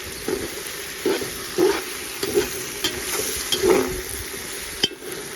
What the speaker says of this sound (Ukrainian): Перемішуємо, готуємо до золотистого кольору